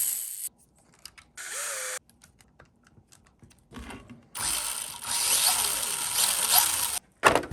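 Gear vibration from a remote-control Datsun 240Z model car with slight backlash on a gear axle, a buzzing mechanical whir that starts and stops in short bursts, then runs longer and louder near the end.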